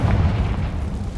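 A Confringo spell explodes in the Hogwarts Legacy video game, a loud low boom with a rumbling burst that lingers across the whole moment.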